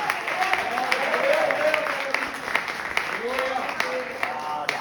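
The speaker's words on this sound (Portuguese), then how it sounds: "Não, aplaude mais, eu já estou terminando." A congregation at a Pentecostal church service applauds in a steady, sustained patter of many hands, with voices and a preacher speaking over the clapping throughout.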